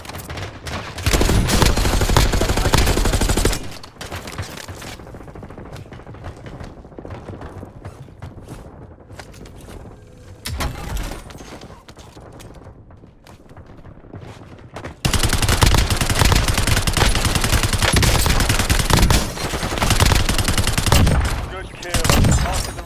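Rapid bursts of gunfire from a first-person shooter video game, loud and dense at the start and again in the second half, with a quieter stretch of scattered shots and game sounds in between.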